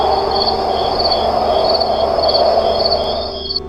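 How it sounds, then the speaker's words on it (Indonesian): Crickets chirp steadily through a quiet village night with a light wind, a dense, continuous high trill that pulses in regular bursts, fairly loud and close, with no voices. "hanya suara jangkrik dan angin malam yang terdengar"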